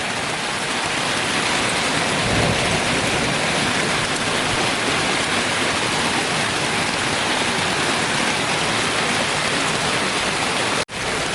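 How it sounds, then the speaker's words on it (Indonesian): Heavy rain pours onto a tarp tent in a dense, unbroken hiss of drops that stays loud and even throughout, with no talking. "Hujan lagi."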